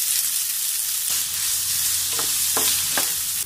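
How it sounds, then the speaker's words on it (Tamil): Chopped onions sautéing in hot oil in a pan give a loud, even sizzle, broken by a few sharp scraping stirs of a spoon over the last couple of seconds, with no talking. "இப்போ வெங்காயம் நல்லா வதங்கிடுச்சு."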